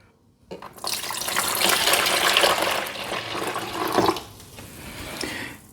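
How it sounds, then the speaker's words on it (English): Water from a measuring cup pours into a Silonn countertop ice maker, a steady splashing gush lasting several seconds after a short quiet start, then easing to a softer trickle. "Let's add some water."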